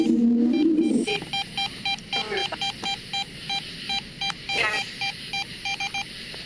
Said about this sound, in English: This is beeping.